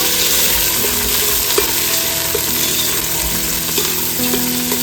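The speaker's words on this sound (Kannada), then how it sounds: "ನೋಡಿ ಈರುಳ್ಳಿ ಮತ್ತು ಸ್ಪೈಸಸ್ ಎಲ್ಲ ನೀಟಾಗಿ ಫ್ರೈ ಆಗಿದೆ" Chopped onions, mint and spices fry in a pan for chicken biryani, giving a loud, continuous sizzle with scattered pops and the occasional scrape of stirring, no voices.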